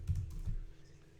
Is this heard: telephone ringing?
no